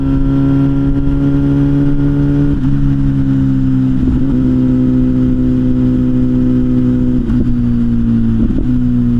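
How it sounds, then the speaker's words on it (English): MV Agusta Rush motorcycle engine while riding: a loud, close, tonal exhaust drone whose pitch falls slowly in long steady stretches, broken by brief gear-change blips, with no speech. "I always loved MVs for their engine sounds, and the Rush is nonetheless one of the prettiest sounds ever."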